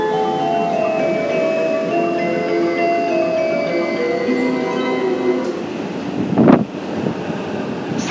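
A rapid train pulls into the platform at Akihabara station in Tokyo, a loud sustained rumble with whining tonal hum from motors and brakes, capped by a brief burst of air or clatter near the end.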